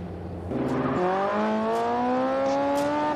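Sports car accelerating hard during a speed run, a loud, close engine roar that steps up through gears and climbs steadily in pitch, with no talk over it.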